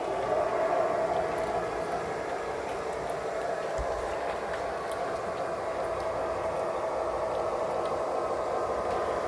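A steady rumbling hiss of a train rolling along rails on the Withlacoochee River Railway, continuous and even throughout, with faint clicks and no voices.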